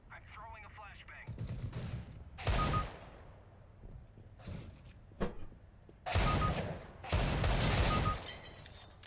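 Gunfire in a Counter-Strike match replay: several loud bursts of rapid shots, some long and sustained and some short, with background game noise and a voice talking between them.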